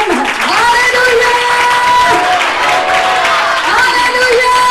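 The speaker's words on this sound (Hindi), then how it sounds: "जोरदार ताली बजाइए, कम है।" At a Christian worship gathering, a congregation claps loudly and continuously while a strong voice chants and calls out over them, with raised voices rising and falling atop the applause.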